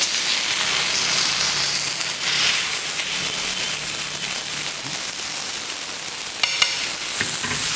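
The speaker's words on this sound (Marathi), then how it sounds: "परतून घेऊया तेलामध्ये" Bangda mackerel fish fries in oil, a loud continuous close sizzle and hiss, with a brief clatter near the end as the pieces are turned.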